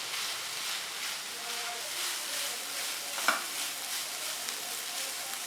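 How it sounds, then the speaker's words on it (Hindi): Minced beef sizzles steadily in a pan with one medium bell pepper cut into small cubes, with a continuous close frying hiss and occasional scrapes and clinks of stirring. "अब इसको भी 2 से 3 मिनट कीमे के साथ फ्राई करेंगे"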